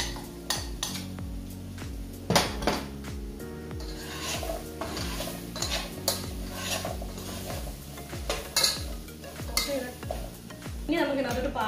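Chopped green apple is stirred into pickle masala in a pan, with repeated scraping and clinking of a spoon against the pan in a steady rhythm, accompanied by a light sizzle close by.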